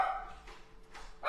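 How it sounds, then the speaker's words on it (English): A dog barks a few times in short, sharp bursts, fairly close, with quiet pauses between the barks. "so the dog's barking again"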